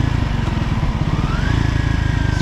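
A Triumph Scrambler 400X single-cylinder motorcycle engine thumps in a close, loud, steady rhythm, with a slight rise in revs partway through.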